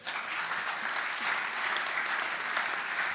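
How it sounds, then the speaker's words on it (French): A congregation claps steadily and densely at a charismatic worship night in Geneva, a continuous wash of many hands applauding together, fairly loud and even throughout with no clear voices standing out. "Somebody clap your hand for the Lord."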